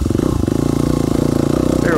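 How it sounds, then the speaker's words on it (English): A dirt bike engine runs steadily and close while riding off-road on trail shortcuts, a loud rhythmic pulsing drone with a voice talking over it. "That's what they call these off-road bikes"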